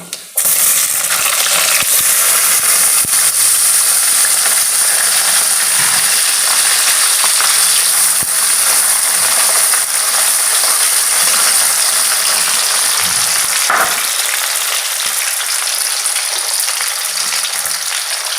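Potatoes frying in a pan for an Assamese vegetable dish give a loud, steady sizzle that runs without a break, with a few scraping stirs and clinks near the pan and no talking.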